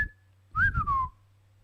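A single short whistled phrase, one rising-then-falling airy tone lasting under a second, close and clear against a faint steady hum.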